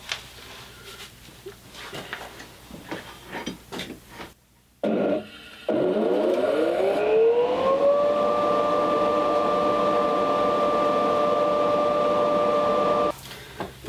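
A homemade sawdust extraction turbine motor spins up with its inlet blocked, a whining tone that rises smoothly then settles into a steady loud hum for several seconds before cutting off, preceded by clattering handling noises.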